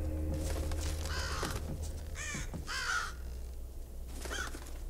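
A crow in the stealth game Thief caws several times in separate bursts, fairly close and clear over a low steady ambient hum, with no talking.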